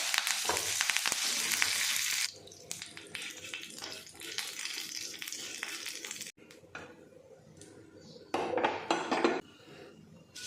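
Curry leaves, fennel seeds and a chilli hit hot oil with a loud crackling sizzle that bursts and fades in waves, mixed with metal utensil scrapes and clinks against the pan, all close by.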